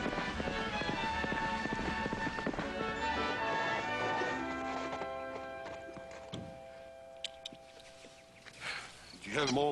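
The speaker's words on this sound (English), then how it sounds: "This horse is going to take a whole lot more work before he's ready for Clancy" Horse hooves clip-clop at a steady pace in a Western TV drama scene, moderately close, with sustained musical tones underneath that fade toward the end.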